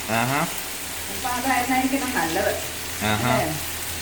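Steady sizzle of fish frying in a hot pan runs throughout while people talk over it in bursts.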